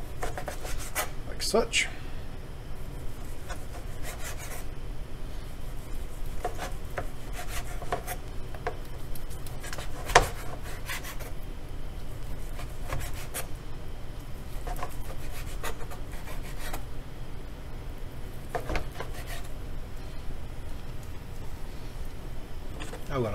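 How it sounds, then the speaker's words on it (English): Knife slicing leftover beef into thin strips about a quarter inch thick on a board, with repeated scraping strokes and sharp taps at an uneven pace, close up, and a brief spoken remark. "So I'll just cut in some little strips, 1/4 inch thick or so."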